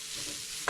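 Split green chillies and curry leaves are stirred and fried in a hot pan while cooking a ground roasted-coconut crab curry, a soft steady sizzle ending with a sharp scrape of the spoon.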